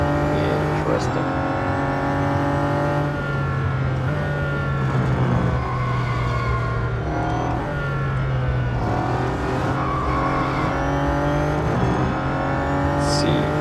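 A Bugatti Chiron's engine in the Real Racing 3 racing game at the Nürburgring drones and revs steadily, with pitch rising and falling through gear changes, continuous and prominent while a voice talks over it.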